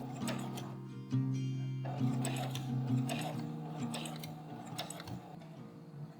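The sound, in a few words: sewing machine stitching a seam with backstitch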